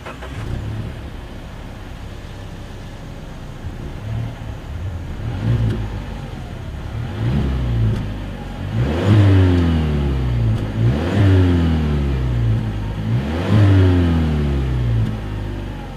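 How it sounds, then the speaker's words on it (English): A 2020 Mazda 6 with dual chrome-tipped exhaust idles, then revs up in four repeated, rising bursts that fall back to idle each time, heard close from behind the car. "dual exhaust outlets with chrome tips. So I think you guys know what we have to do next. As always, here is that exhaust clip."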